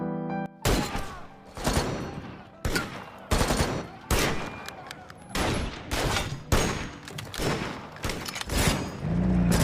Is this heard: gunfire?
yes